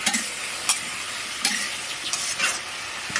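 Turmeric is stirred into dal frying in a pan in a village kitchen, giving a steady close sizzle with repeated scraping strokes of the spoon and no voices.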